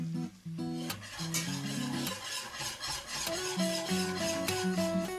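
A spoon stirs flour roasting in butter in a pan, a soft, continuous scraping and faint sizzle, quiet and steady, under a light background melody.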